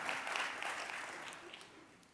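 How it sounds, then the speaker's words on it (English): Scattered clapping from a live talk audience in Los Angeles, moderately quiet, tapering off over a couple of seconds. "And he was there, and y'all can clap for Brother Emory."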